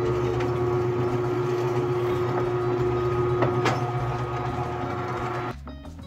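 A drill bit bores a 2 cm deep hole into a wooden stick, a steady droning motor whine with a faint knock midway, holding at an even level before cutting out near the end.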